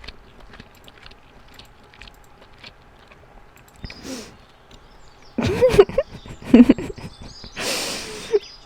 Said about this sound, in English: Some chewing ASMR.